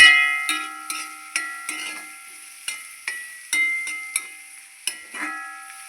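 Onions and green chillies sauté in a pan for simple noodles, with a steady sizzle broken by about a dozen sharp, rhythmic stirring scrapes of a spatula, close up and with no one talking.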